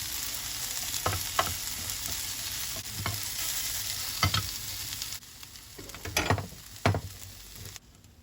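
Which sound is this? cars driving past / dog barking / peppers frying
peppers frying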